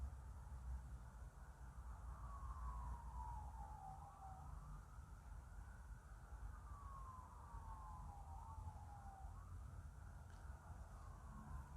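Distant wailing sirens rise and fall faintly in repeated sweeps over a steady background rumble.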